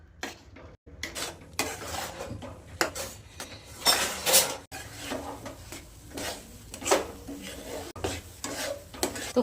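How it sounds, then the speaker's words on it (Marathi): Finely chopped sweet potato stirred in a pan for a sweet potato barfi, a metal spoon scraping and clinking against the pan in repeated irregular strokes, close by with short pauses and no talk. "असा गोळा होसपर्यंत ह्याला हलवून हलवून घ्यायचं"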